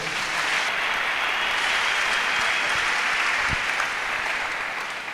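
A church congregation breaks into applause, a dense, loud, steady wash of clapping that holds for several seconds and eases off slightly at the end.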